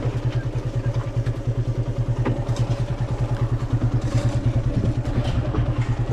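A motorcycle engine idling close by outside an old Shiva temple in Dakshin Dinajpur, a loud, even, rapid thudding pulse that holds steady throughout.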